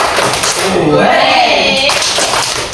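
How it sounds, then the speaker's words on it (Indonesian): A group clapping chant at an Indonesian teacher training session, a rhythmic burst of hands clapping together with voices calling out over it, loud and close. "tepuk wow untuk Pak Guru ganteng kita"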